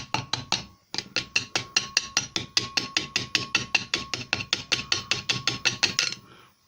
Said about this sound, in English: we'll give that a tap with a screwdriver